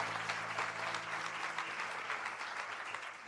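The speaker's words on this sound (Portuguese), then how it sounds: "Dá um aplauso aí, pessoal, para Jesus" A church congregation applauds for Jesus, a dense, steady wash of many hands clapping that fills the room evenly and fades only slightly near the end, with no voices standing out.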